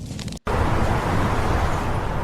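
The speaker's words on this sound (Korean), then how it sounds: "도시 소리가 들리죠." City traffic sound effect from a voice changer app: a dense, steady wash of road noise with passing cars, broken by a brief silent gap near the start, then continuing loud and even with no talking.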